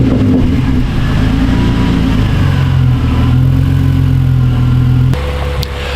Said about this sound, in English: I knew it had a proper burble tune on it, but you couldn't really hear it with the stock exhaust.